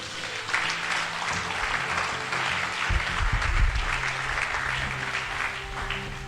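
Congregation at a church service applauding, a steady dense wash of clapping hands throughout, fairly loud and close, with some low rumble beneath.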